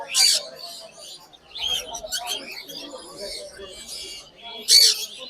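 Birds chirp and tweet in short bursts at a bird market, with the sharp calls standing out against a busy background and a voice talking underneath.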